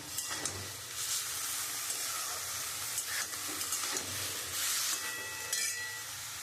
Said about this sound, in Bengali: আমি তো ওই কুচো চিংড়িটা আমি একটুখানি লাল লাল করে একটু ভেজে নিচ্ছি, হালকায় ভেজে নিচ্ছি